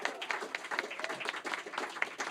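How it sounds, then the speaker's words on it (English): Applause from an audience at a live music show, fairly soft and distant, a continuous patter of many hands clapping with no voices on top. "Let's give him a round of applause."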